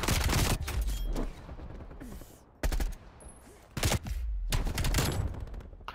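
Gunfire from the Call of Duty Black Ops 4 video game comes in loud, close bursts of rapid shots, separated by short quieter gaps filled with low game noise.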